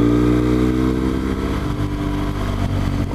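A BMW R1200GS motorcycle climbs Kirkstone Pass in the Lake District, its engine droning loudly and steadily close up with a deep, even tone and constant wind rush throughout.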